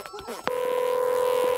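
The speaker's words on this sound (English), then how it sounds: "The trubbly phone is ringing." A toy-like electronic ring from the Trubbly phone in the children's show In the Night Garden: a brief burst of tones followed by a sustained steady two-note electronic tone, loud and close, after a short voice at the start.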